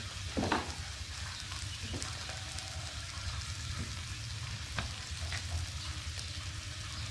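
Pork fat frying in a pan with a steady, close sizzle and crackle, a few sharper pops rising above the even hiss and no talking.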